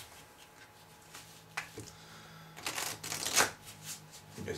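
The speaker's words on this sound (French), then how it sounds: "on va poser la carte dessus et on va de nouveau mélanger" A deck of playing cards is shuffled in close-up: quiet riffles and soft flutters, a couple of brief bursts with a louder riffle in the middle, faint and intimate with no talk.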